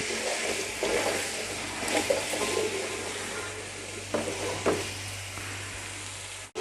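Potato pieces fry on a medium flame while being stirred for aloo methi, a steady soft sizzle with scraping spatula strokes and a low hum underneath.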